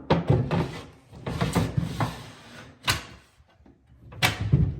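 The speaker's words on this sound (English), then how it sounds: "Install the drawer." A kitchen base cabinet drawer from a ready-to-assemble cabinet being slid into place and pushed shut: several wooden knocks, scrapes and sliding rumbles, then sharper bumps as it closes, close up with no speech.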